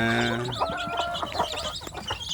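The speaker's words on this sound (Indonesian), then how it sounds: "Di kotak ajaib inilah anak ayam kampung saya" Village chicken chicks in a rearing box peep and cluck in quick, overlapping bursts nearby, high chirps scattered unevenly over a couple of seconds.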